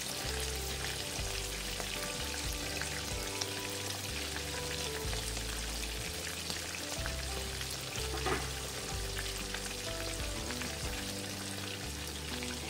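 Pounded chicken breast chops fry in a pan with sliced tomatoes, giving a steady, fairly quiet sizzle that continues unbroken under background music.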